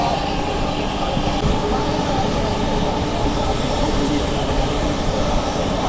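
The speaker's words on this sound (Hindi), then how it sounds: "12394 आम जनता की राजधानी नई दिल्ली राजेंद्र नगर संपूर्ण क्रांति एक्सप्रेस अमृत भारत को जिंग करने के लिए आ रही है सामने से" Sampoorna Kranti Express rushing past on the opposite track beside a moving Amrit Bharat Express, a dense continuous roar of wheels and rushing air, loud and close, with a faint voice underneath.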